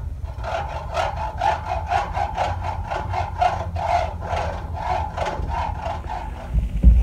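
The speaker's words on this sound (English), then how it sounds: "So a brand new hacksaw blade versus the Kato frame" A brand new hacksaw blade cuts through the metal frame of an N scale Kato SD40 model locomotive in steady back-and-forth strokes, a close, rhythmic rasping that repeats roughly every half second with no talking.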